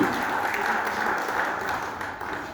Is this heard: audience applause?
yes